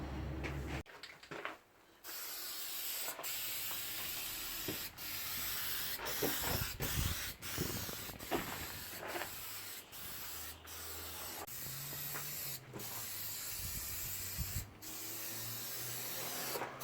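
An aerosol spray can hisses in repeated close bursts, touching up paint over scratches on the rear of a project car, the pauses marked by sharp clicks from the can's nozzle and no voices.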